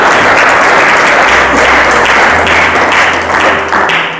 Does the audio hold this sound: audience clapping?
yes